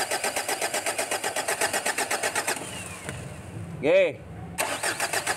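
A 2012 Ford Everest with a fault that makes the engine die and lose power cranks with a rapid, even starter rhythm, pauses briefly, then cranks again; a voice speaks once in between.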